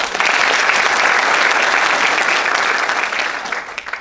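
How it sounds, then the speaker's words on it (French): A large audience at a conference on preschool education breaks into loud, sustained applause, a dense roar of clapping that holds steady before tapering off near the end. "Je vous demande de l'applaudir"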